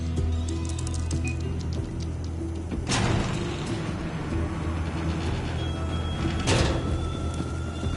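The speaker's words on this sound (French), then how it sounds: "Je vais ouvrir la porte." A door opening in the video game Borderlands 3, two sharp mechanical sliding whooshes about four seconds apart over a steady hum of ambient game sound.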